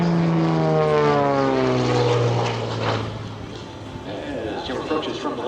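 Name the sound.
aerobatic propeller airplane flying a Cuban 8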